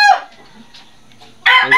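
A chicken recovering from an illness crows or clucks loudly up close in two bursts, one at the start and one at the end, with a quiet gap between them.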